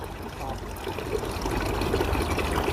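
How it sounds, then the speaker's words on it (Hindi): Water gushes steadily from a fountain in a park, a soft, continuous splashing trickle at moderate distance with no voices over it. "क्या बोलते हैं उसको जिस तरह से पानी निकलता है?"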